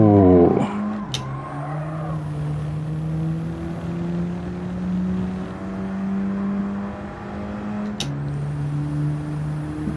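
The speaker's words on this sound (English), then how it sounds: "Keep hitting the rev limiter." In Gran Turismo 7, a Volkswagen's engine sits on the rev limiter, a steady buzzing drone broken by two sharp gear-change blips, close and loud without speech.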